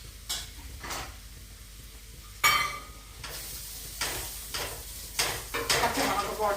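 Food sizzles in a hot pan while a utensil stirs and scrapes in short bursts, with occasional clinks of metal against the pan.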